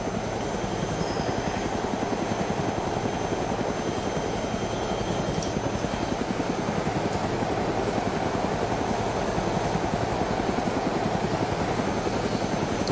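A helicopter in the video game DayZ sets down, its steady rotor chop thumping loudly and evenly throughout with no voices.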